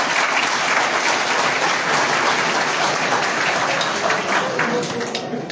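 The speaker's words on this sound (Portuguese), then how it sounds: "Um salva de palmas para o Pilar." Loud, sustained applause fills an extraordinary congress of the MADEM G15 political party as the crowd claps steadily for a speaker, a dense unbroken wash from start to finish.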